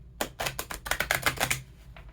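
Oracle cards are shuffled up close in a rapid run of about ten crisp riffling flicks that tail off quickly.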